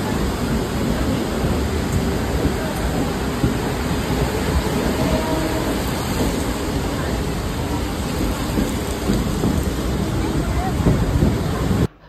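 Heavy rain in Virar, a steady, dense broadband roar holding at an even loudness for about twelve seconds before cutting off abruptly at the end.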